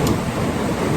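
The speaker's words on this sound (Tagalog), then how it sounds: "mahina lang yung ulan pero parang hindi natitigil" Steady light rain falls during a typhoon under Signal No. 2 conditions, a continuous broadband hiss that stays even and close for the full second with no voices.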